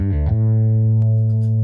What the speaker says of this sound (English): Here's just the phaser.